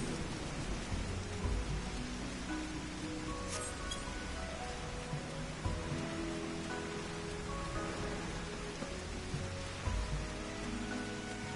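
Steady rain falls in a video game, a dense even hiss of drops with faint low rumbles beneath, continuous and without speech.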